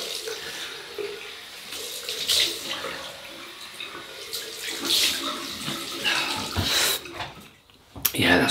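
Cold water running from a tap into a sink after a shave with an adjustable double-edge safety razor, a steady close hiss and splash with brief surges, ending in a short clatter.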